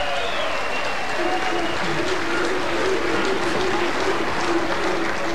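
Steady, sustained applause from a crowd at a lawn bowls match fills the whole stretch, warm and continuous without breaks, following a well-played shot.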